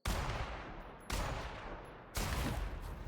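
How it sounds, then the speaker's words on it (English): Three sharp, loud bursts of gunfire from The Outer Worlds video game ring out about a second apart, each followed by a decaying echo, with no voices. "You guys didn't hear the gunshots echoing from a distance?"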